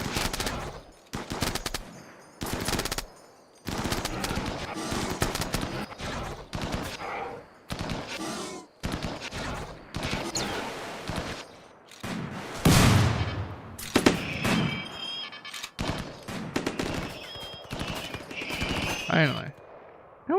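Rapid bursts of gunfire from the video game RimWorld, dense volleys repeating through the stretch with brief gaps, loud and close, while a voice talks over parts of it.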